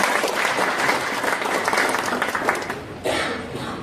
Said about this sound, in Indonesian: Aplaus dulu dong buat Pak Nur Khalid.